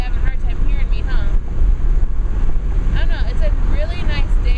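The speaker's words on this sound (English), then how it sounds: "And it's windy, and you guys are probably having a hard time hearing me, huh?" Wind gusting across a microphone outdoors on a clear sunny day, a steady low rumbling buffet that persists for the whole stretch, with a person talking over it throughout.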